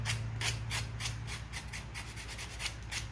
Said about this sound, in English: you'll take a 120 grit sandpaper and just go along the edges